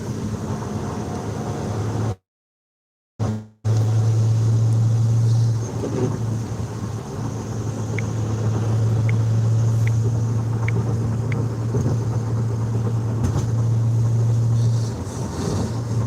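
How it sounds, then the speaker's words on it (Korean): A Toyota Supra cruises slowly on a wet, rainy road, its steady engine and tire hum with road spray continuing throughout, cut by a brief dropout of silence early on. "지금 빗길이라서 지금 이 차량의 상태가 사실 저희 지금 또 빗길에는 또 취약한 차량이다 보니까 지금 밟고 그렇게 가고 있지는 않습니다"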